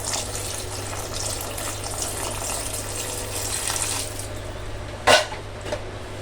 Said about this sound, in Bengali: আমি এটাতে দিয়ে দেব হালকা পানি,